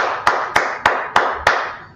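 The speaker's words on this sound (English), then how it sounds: "Let's clap it up." Five sharp, evenly spaced claps of an audience ring out in quick succession, each snapping crisply and then trailing off into a short reverberant decay in a room.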